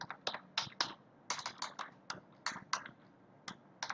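A file name being typed on a computer keyboard: quick, quiet keystrokes in irregular bursts, with short pauses between clusters of clicks.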